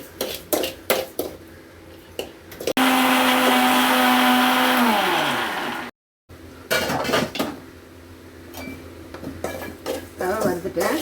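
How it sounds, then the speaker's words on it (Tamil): A utensil scrapes and clinks against a pan in uneven strokes as semolina is dry-roasted, broken by a loud whirring motor that winds down. The stirring then resumes. "இது ரவை வந்து 1 டம்ளர் ரவை, அதை நல்லா வறுத்து எடுத்துக்கிறேன்."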